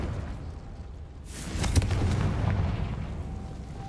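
A single booming blast from the Confringo fire spell in the Hogwarts Legacy video game erupts with a sharp crack and rumbling tail, heard alone over a low ambient bed.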